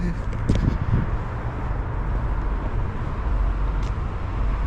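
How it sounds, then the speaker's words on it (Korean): A broad, steady roar of a large vehicle rumbles past amid traffic noise, with a few faint knocks at the start. "내가 타야 할 버스가 지나가고 있구나"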